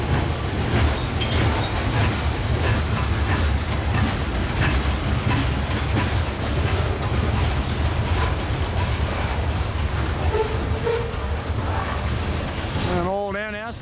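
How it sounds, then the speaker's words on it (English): Freight train with an old NS covered hopper rolling past on a cold winter day, a steady loud rumble with clickety-clack of wheels on rail joints throughout, ending in a brief squeal as the cars pass. "An old NS covered hopper."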